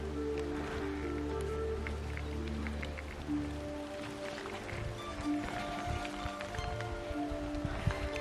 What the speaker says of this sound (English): You're causing it to rain by dislodging all the water from the canopy.